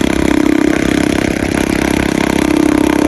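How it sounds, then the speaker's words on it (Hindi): A Kawasaki Ninja ZXR sport motorcycle engine runs steadily at close range, a loud continuous buzzing drone with small fluctuations in revs and no pauses throughout. "कावासाकी निंजा बाइक आहे निंजा स्पीड वारो बाइक आहे"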